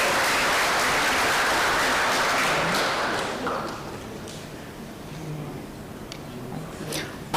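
Applause from an engineering college orientation audience for a professor: a dense, loud burst of many hands clapping that fades into a thinner patter after a few seconds, with a few scattered claps continuing.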